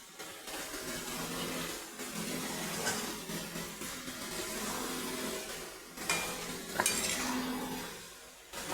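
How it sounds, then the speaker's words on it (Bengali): A spoon stirring small fish and mixed vegetable curry in a pan, soft scraping and gentle simmering close by, with a few light clinks. "ভালো করে নাড়াচাড়া করে নেব।"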